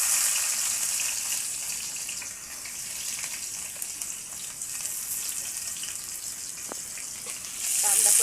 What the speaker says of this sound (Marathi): कांदा परतून घेऊ चांगला.